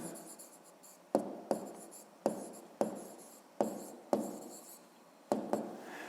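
A pen scratches out words by hand in a maths exercise, seven short close strokes each starting sharply and trailing off, with quiet gaps between them.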